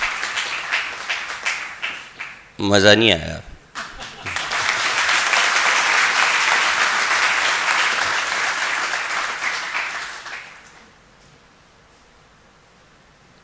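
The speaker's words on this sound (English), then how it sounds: "So please give yourself a loud round of applause." Audience applause at a university orientation programme for M.Com. and MBA students, a broad swell of many hands clapping that builds, holds for several seconds and fades out, preceded by a brief spoken remark.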